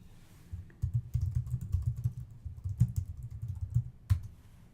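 Rapid, irregular keystrokes on a computer keyboard, typed close and fairly quiet in bursts with brief pauses, as when entering account login details.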